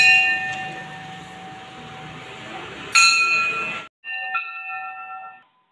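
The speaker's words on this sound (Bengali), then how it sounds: "বাবু বাজছে মন্দিরের ঘন্টা।" A bell rings at a Kali temple: sustained metallic tones, with a brighter, louder strike partway through. The ringing cuts off abruptly, then resumes as softer clinking chimes before fading to near silence.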